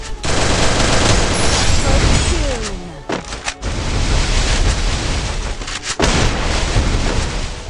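Loud, dense bursts of gunfire in a Free Fire match, rapid volleys and booming shots nearly unbroken across several seconds, with a couple of short gaps and some faint game voices underneath.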